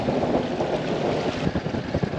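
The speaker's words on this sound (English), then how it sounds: "It's bloody windy now" Strong wind buffets the microphone on the coast while fishing from a boat, a steady loud rush with gusty swells and no voices.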